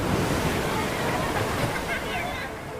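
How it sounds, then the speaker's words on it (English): A man swept out to sea by a rip current struggles in the water, heard as loud, continuous churning and sloshing of surf right up close, with muffled voice-like sounds buried in the turbulence. "What you are about to hear is the sound of me drowning."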